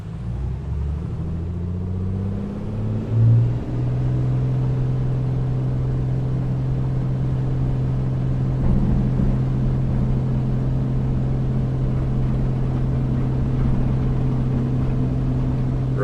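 Single piston engine of an A2A Comanche in a flight simulator drones steadily through a takeoff roll, its low hum rising in pitch early on and then holding a constant, loud tone.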